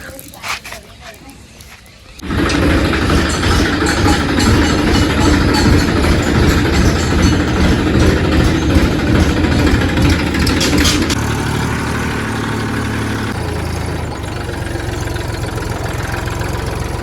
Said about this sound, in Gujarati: મિત્રો આપણે ઘરેથી ટ્રેક્ટર લઈને નીકળી જાય છે હવે